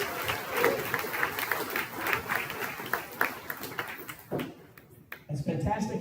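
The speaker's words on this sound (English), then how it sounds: "If y'all would give our UAB partners a round of applause." An audience at a medical graduation ceremony gives a round of applause, clapping that stays steady for a few seconds and then thins out, while a voice speaks over it near the end.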